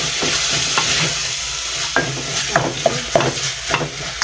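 A spoon stirs samosa filling frying in a pan with salt, giving repeated scraping strokes against the metal over a continuous sizzle of hot oil, close and clear.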